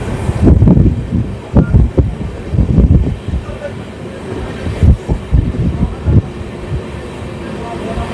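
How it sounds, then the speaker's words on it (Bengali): The Sairang–Kolkata Express runs through green countryside toward Murshidabad Junction, heard from on board. Loud low rumble with rhythmic wheel clacks and thumps over the rails, steady throughout. "চারিদিকে সবুজের মধ্যখান দিয়ে আমাদের ট্রেন এই মুহূর্তে ছুটে চলেছে নওয়াবের শহর মুর্শিদাবাদ জংশনের দিকে"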